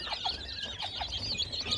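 Many chicks cheep continuously in high, rapid chirps, close by and fairly quiet, with no talking.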